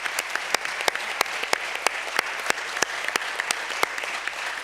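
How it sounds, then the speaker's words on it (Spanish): Applause from a small audience at a round-table business panel, with sharp individual claps ringing out in a fairly regular rhythm above a softer spread of clapping, steady throughout. "démosle ese aplauso que me quedaba antes con ganas de darlo"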